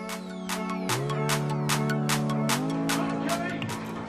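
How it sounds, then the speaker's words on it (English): A television plays in the background with steady music and tonal sound, with possible talk mixed in at moderate level. "So, excuse the noise in the background, we were watching TV"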